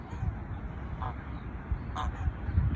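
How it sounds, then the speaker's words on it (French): Honking, duck- or goose-like bird calls, two short calls at a moderate distance over low outdoor rumble and background noise. "c'est des beaux oiseaux, ça"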